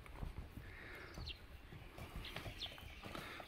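A horse belonging to an elderly villager in Arkhangel walks along, hooves clip-clopping in a steady, quiet rhythm with faint bird calls in the background.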